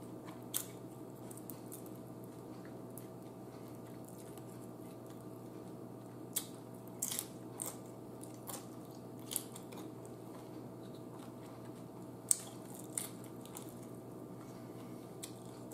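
Someone eats nachos, with scattered close crunches and bites against a quiet, steady background hum, and short pauses between chews.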